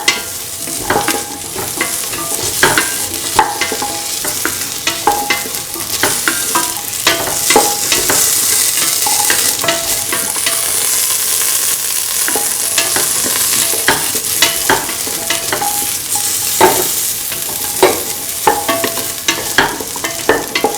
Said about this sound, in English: Sort and mix the carrot pieces together.